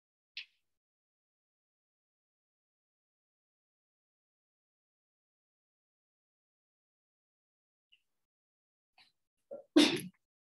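One sharp human sneeze near the end of a nearly silent stretch, close and fairly loud, with a faint tick at the start.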